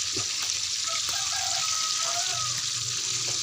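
Fish frying in hot cooking oil, a continuous loud hissing sizzle with faint scraping and clinks from a utensil.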